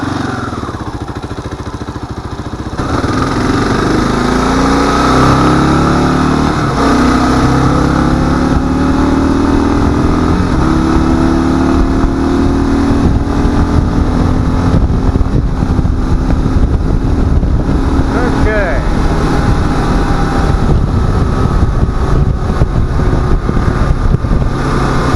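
A 2022 Kawasaki KLR 650 motorcycle cruising on a highway: a loud, constant engine drone that climbs in pitch as it speeds up, heavily buffeted by rushing wind noise on the microphone throughout.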